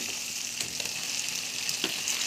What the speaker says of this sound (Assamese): এতিয়া মই গেছটো অলপ হাই ফ্লেমত দি চিকেনখিনিৰ পৰা পানীখিনি শুকালৈকে মই ভাজি দিছোঁ